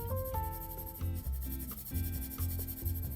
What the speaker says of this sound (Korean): 이 안쪽 부분을 이렇게 색칠해주세요